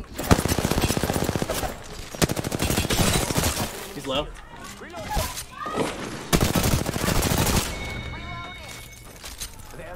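Rapid video game gunfire with sharp, booming shots and bursts crackles through a shooter match, loud and close, alternating with stretches of excited talk from players.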